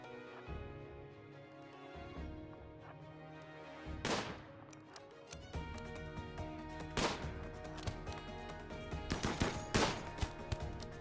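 Gunfire from turrets in a water-world game map, steady rattling fire with several louder sharp bursts, busy and layered with no talk over it.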